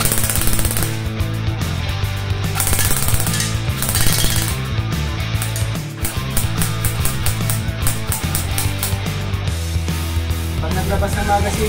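An EC 854 or JG 6851 airsoft gun fires on full auto in rapid mechanical bursts of clattering shots, loud and close, with short pauses between strings.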